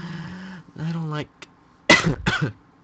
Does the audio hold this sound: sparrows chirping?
no